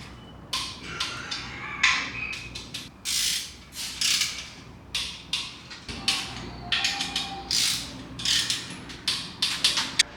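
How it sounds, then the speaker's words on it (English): A ratchet torquing oil pan bolts into the engine block of a C6 Corvette to 18 pound-feet, loud, close, rapid clicking bursts repeating in steady strokes with brief pauses between them. "We'll start by torquing the bolts that go into the block to 18 pound"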